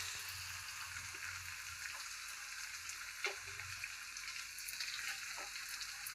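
Ragi flour dry-roasting in a pan for ragi upma, giving a steady, soft sizzling hiss throughout with a few light stirring scrapes and no voices.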